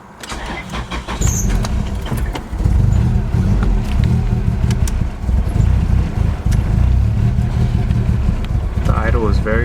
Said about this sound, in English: The idle was very rough in the beginning.